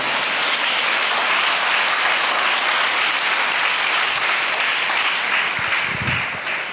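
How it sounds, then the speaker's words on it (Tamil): A church congregation claps in praise during a Tamil Christian service. Dense, steady applause fills the room at close range, fading slightly near the end. "கைத்தட்டி ஆண்டவருக்கு ஸ்தோத்திரம் பண்ணணும்."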